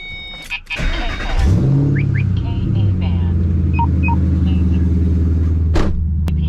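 A car starts out on a test drive after a wheel alignment, its engine and tyres building into a steady low rumble. Brief clicks and a faint tone are heard near the start.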